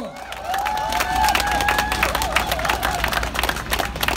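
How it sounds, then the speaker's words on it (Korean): Crowd applause and cheering at an outdoor Korean local election campaign rally for a mayoral candidate, loud and continuous clapping with shouts, a whistle-like tone and amplified hum underneath. "의장님께 뜨거운 박수로 감사의 표시를 해주시기 바랍니다."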